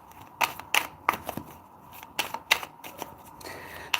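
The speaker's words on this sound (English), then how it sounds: "let's start to shuffle" Tarot cards being shuffled by hand, a run of crisp riffling snaps and soft slides in an uneven rhythm, close and fairly quiet, with no voices.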